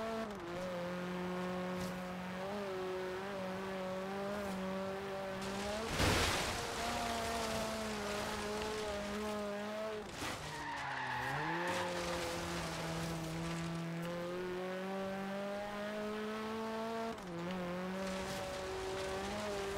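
A modified Jeep of about 600 to 700 horsepower in Forza Horizon 4, its engine droning steadily with a sustained tonal whine that rises and dips through gear changes, with a burst of noise partway through.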